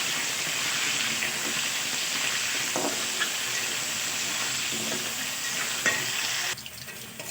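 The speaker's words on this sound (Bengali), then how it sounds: "আলুগুলোকে একটু লাল লাল করে ভেজে নেব" Potato pieces seasoned with salt and turmeric fry in oil left over from frying pangas fish, giving a continuous close sizzle with occasional stirring scrapes, then the sizzle drops off sharply near the end; no speech.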